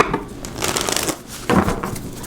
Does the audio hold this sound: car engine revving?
no